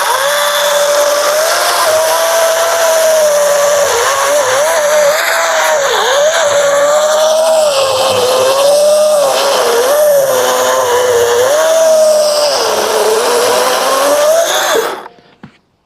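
A battery chainsaw with a 14-inch Oregon bar cuts through a white oak log at a sawmill, a loud, steady motor whine whose pitch sags and recovers under load for about fifteen seconds before it cuts off abruptly.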